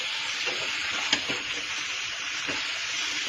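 Vegetables sizzle steadily as they are stir-fried in a pan, a constant close frying hiss with a few soft scrapes from stirring.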